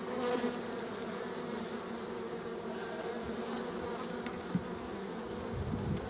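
Honeybees swarm around an open hive, a dense, steady drone of buzzing wings close by, unbroken for the whole stretch apart from a faint tap or two.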